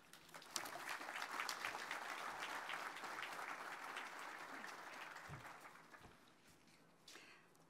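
An audience at a building dedication ceremony for an eye institute applauds to welcome a guest speaker. The dense clapping is steady and fairly loud for about seven seconds, then thins out to a few scattered claps at the end.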